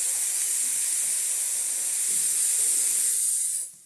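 Steam wand on a Zaconni lever espresso machine hissing steadily at full force, a loud, continuous airy rush that cuts off abruptly near the end.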